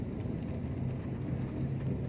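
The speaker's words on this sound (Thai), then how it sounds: "ฝนคือตกเนาะ" Heavy rain pours steadily, a dense low rumbling roar of water drumming without break, as if heard from inside a vehicle on the road.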